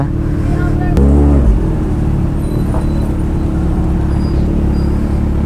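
A motorcycle engine drones steadily while riding through heavy traffic in Mamatid, Cabuyao, Laguna, with a brief louder surge near the start and wind-blown road noise throughout.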